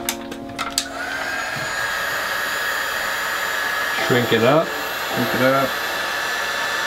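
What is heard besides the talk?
heat gun shrinking wrap on FPV drone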